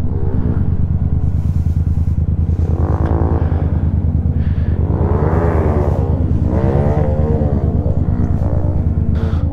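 Motorcycle engine droning steadily close by as a new rider takes a turn, the pitch rising and falling in smooth swells as the clutch is let out and the throttle eased.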